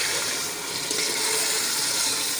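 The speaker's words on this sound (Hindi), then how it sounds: "अब इसके अंदर हम 1 कप पानी डाल देंगे" A cup of water poured into fried masala in a pot while cooking beef kofta curry, a steady broad splashing rush of liquid that stays loud and continuous throughout, with no talking.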